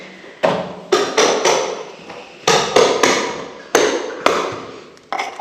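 Hammer knocking small lumps off a floor before it is sealed, a series of sharp, loud impacts landing singly and in quick pairs with short gaps between, close and alone with no talk.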